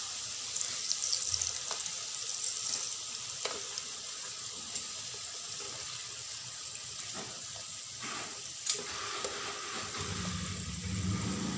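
Chocolate-filled wonton skins fry in hot oil, a faint, steady sizzle and crackle with a few clinks, heard alone without talk.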